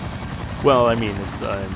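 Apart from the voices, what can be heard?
helicopter in the video game Resident Evil 2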